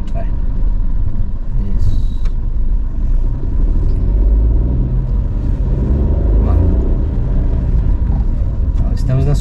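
A car's engine rumbles low and steady as it pulls away under acceleration on an uphill street, with people talking over the motor throughout.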